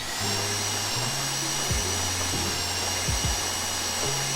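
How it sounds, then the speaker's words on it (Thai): A steady video game mining drill whine with pitch shifts and brief revving dips, continuous and fairly close, over a constant high mechanical hum. "ต่อมาจะใช้หัว สว่าน"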